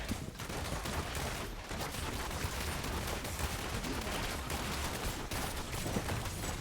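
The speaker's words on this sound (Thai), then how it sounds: "นี่ครับเสียงยิงสะใจนะ" Rapid gunfire from the Demon Hunter class in the video game Diablo Immortal pours out in a dense, loud, continuous stream of shots that bursts and barely pauses.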